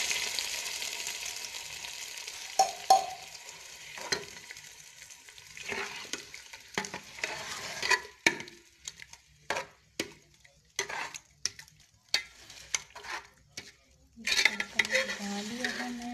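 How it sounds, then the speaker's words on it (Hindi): Tempering for sarson ka saag, with onions fried golden in a pan, sizzles as a spoon scrapes and clatters against the metal in repeated short strokes, and a brief burst of frying comes near the end. "मैं तड़का लगा रही हूँ।"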